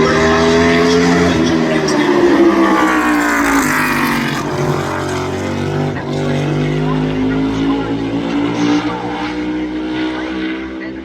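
A NASCAR Chevrolet race car at North Wilkesboro Speedway roars loudly, its engine note rising and falling in pitch as it accelerates and backs off.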